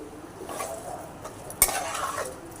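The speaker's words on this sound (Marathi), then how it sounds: "तांदूळ घालून पण थोडं परतवायचं आहे। परतवल्याने जरा चांगला लागतो पुलाव।" Washed rice being stirred and sautéed in a pan for pulao, giving a soft continuous scraping and rustling with light sizzle, one sharper clink of utensil against the pan midway, close and fairly quiet with no talk.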